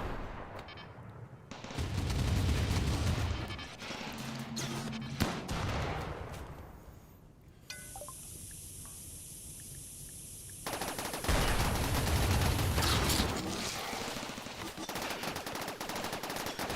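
Automated turrets firing in the Rimworld Odyssey video game, bursts of rapid gunfire and bangs coming and going across the stretch, with a high electronic tone in the middle and loud rattling bursts near the end.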